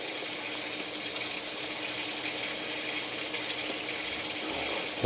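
Pressurised water hisses and gushes steadily as pressure is released from the water filter canister of a Winnebago Class A diesel motorhome, a close, continuous spray with no voices over it.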